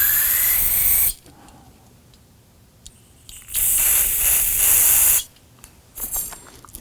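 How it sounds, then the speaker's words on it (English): Two loud bursts of hissing brake-cleaning solvent spray on a 2005-2009 Subaru Legacy's rear brakes, about a second and nearly two seconds long, separated by quiet with small clicks. "go ahead and spray some solvent in there"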